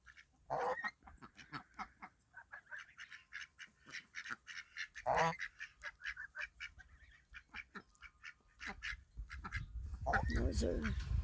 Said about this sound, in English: Those are the new ducks, and they're drakes.